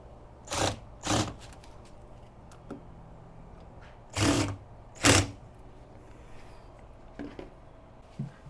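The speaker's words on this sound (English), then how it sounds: "We're just going to remove the two screws that's provided at the back of the smoker, and we're going to place them in by putting the handle here." Two screws being taken out and driven back in to mount the handle on an electric smoker, heard as a few sharp, close clicks and clunks spaced apart, with quiet pauses between them.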